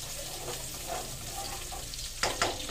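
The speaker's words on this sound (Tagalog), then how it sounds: "Ilagay ko na yung garlic. Susunod na natin yung luya." Garlic and ginger sizzle and fry in a pan for pork dinuguan, a soft steady crackle with a couple of sharper scrapes or stirs near the end.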